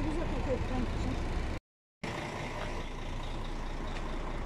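Trucks arriving with livestock at an outdoor Kurban Bayramı animal market in Gaziemir, İzmir, a steady engine rumble with air-brake hiss and reversing beeps, briefly cut off partway, with people talking in the background.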